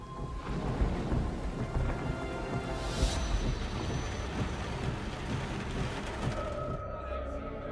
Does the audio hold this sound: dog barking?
no